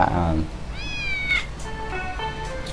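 A cat in the video game Apocalypse Weekend gives several distinct meows, rising and falling, fairly close and clear, with someone talking over and between them.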